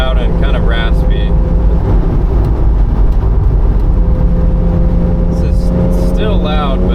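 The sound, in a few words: Porsche 987.1 Boxster S exhaust with Totalflow mini mufflers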